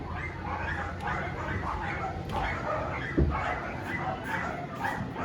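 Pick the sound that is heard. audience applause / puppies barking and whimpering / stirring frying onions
puppies barking and whimpering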